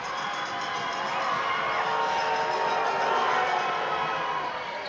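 A basketball arena crowd roars and cheers through a Franklin Bulls versus Taranaki Airs game, a dense sustained wall of voices with shouts and whoops, loud and continuous.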